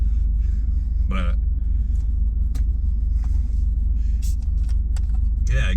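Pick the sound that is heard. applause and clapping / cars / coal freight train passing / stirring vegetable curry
cars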